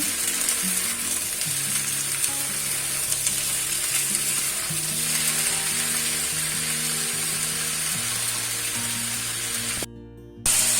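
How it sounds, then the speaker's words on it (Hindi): Potatoes cut into pieces frying with okra in a pan over medium flame, a steady close sizzle with occasional stirring clatter, briefly dropping out near the end before resuming. "अभी भिंडी के साथ फ्राई कर लेंगे"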